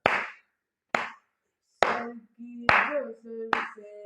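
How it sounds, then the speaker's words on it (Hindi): Sharp, close hand claps keep rhythmic taal, five crisp strikes spaced roughly a second apart, with a voice singing a sustained tune alongside the later claps. "ताली से सुन लीजिए, ताली से आ रहा है।"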